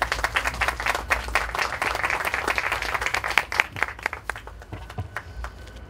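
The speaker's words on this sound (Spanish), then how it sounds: "Lo recibimos con fuertes aplausos." Audience applause welcoming the rector to a round-table discussion on the Catholic Church of Peru, a dense, steady clapping that fills the room for about six seconds and thins toward the end.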